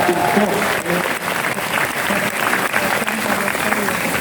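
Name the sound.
audience applause at a choir event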